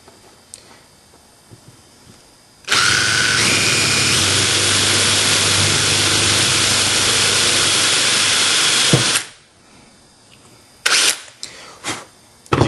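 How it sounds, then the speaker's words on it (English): A power drill whirs loudly for about six seconds, boring a small hole for a valve stem in a carbonation cap, then stops; a few brief clicks and knocks follow. "I've drilled a nice little hole inside of it"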